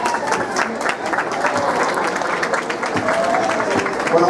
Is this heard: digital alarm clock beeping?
no